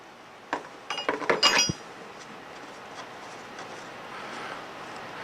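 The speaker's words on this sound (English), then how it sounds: "We'll next disconnect the valve from the control panel using a 3/4 wrench." A 3/4 wrench clinks and rattles metallically while a valve is loosened from a control panel: a quick cluster of sharp taps in the first couple of seconds, then low background hum.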